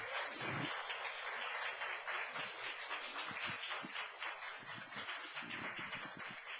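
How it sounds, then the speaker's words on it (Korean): A church congregation applauds in welcome during a Sunday service, a dense wash of clapping from many hands that holds steady at a moderate distance throughout, with no voices over it. "우리 환영하는 박수로 맞이하겠습니다."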